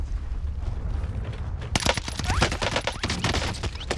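Rapid bursts of automatic gunfire in Call of Duty Warzone Pacific break out after a low rumbling lull, loud, dense sharp cracks, some overlapping shots, continuing to the end.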